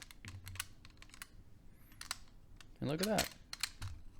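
The piano-key transport buttons of a heavy vintage cassette deck with reel-to-reel compatibility click in scattered, close, crisp presses, with a brief mechanical whir partway through, while a person talks briefly.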